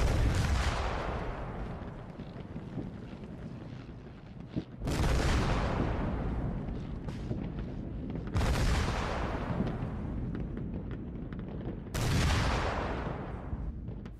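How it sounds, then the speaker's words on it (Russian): Celebratory artillery salute in Leningrad in January 1944: four heavy booming volleys at regular intervals of a few seconds, each rolling and echoing away before the next, loud with no talk. "В этот день в Ленинграде гремел салют."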